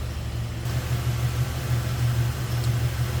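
A 1983 Oldsmobile Cutlass Hurst/Olds engine idles steadily nearby, a low continuous hum with a faint rattle, no voices.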